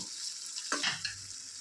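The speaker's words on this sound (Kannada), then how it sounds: "ಒಂದೇ ನಿಮಿಷ ಚೆನ್ನಾಗಿ ಫ್ರೈ ಮಾಡ್ಕೊಂಡು ಬಿಡೋಣ ಈ ಮಸಾಲೆ ಎಲ್ಲನೂ" Masala spices frying in a pan for potato dum biryani, with a steady close hiss and a surge of sizzling and stirring midway, no talk.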